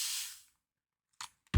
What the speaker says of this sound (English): it's a nice wide tube, so you can actually spray quite a lot